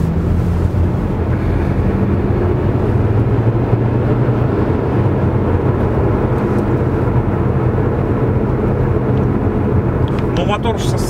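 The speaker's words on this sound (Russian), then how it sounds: "Но слышно резину даже на 60," Steady tyre roar and road noise inside a Changan Eado sedan driving at about 60 km/h, a constant loud low rumble filling the cabin throughout.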